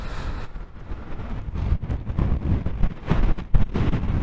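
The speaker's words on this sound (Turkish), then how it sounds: "Deli gibi rüzgar var." Strong wind on the summit of Yellice Mountain in Kütahya, Turkey, buffets the microphone with a continuous low roar and rumble, gusting louder in bursts throughout.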